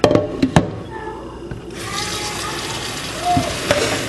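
Half-cooked rice and water are poured into a strainer, giving a sustained rushing, splashing pour after a few sharp knocks at the start, fairly loud and close.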